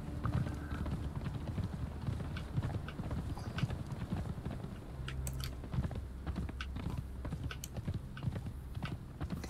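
Horse hooves clip-clopping steadily during riding in the video game Conan Exiles, a quick continuous rhythm at moderate volume with crunchy footfalls and no speech over it.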